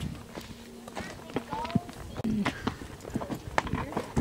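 Hooves of a ridden horse clip-clop on a Yellowstone-area trail ride, a steady run of hoof strikes heard close by amid talk and a few sharp knocks.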